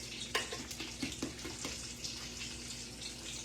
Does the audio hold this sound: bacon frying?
yes